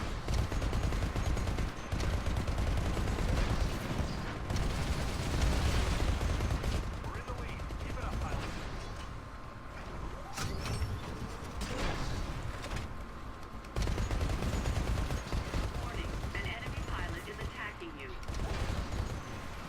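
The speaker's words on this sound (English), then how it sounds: "Somebody's shooting at me and not being very nice." Dense gunfire in the Xbox 360 game Titanfall, with rapid bursts and sustained automatic fire layered over a constant battle din, nearly continuous and loud, with a voice occasionally talking over it.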